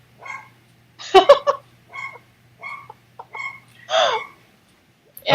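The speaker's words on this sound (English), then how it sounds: "don't mind my dog in the background" A small pet dog named Fifi barks repeatedly indoors, several sharp yaps and yips in short bursts with pauses between, close and fairly loud, over a faint steady hum.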